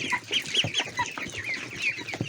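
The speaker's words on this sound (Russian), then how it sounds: "Вот цыпленок." Busy clucking and peeping from young chicks and ducklings, several birds calling rapidly over one another at close range with no talking.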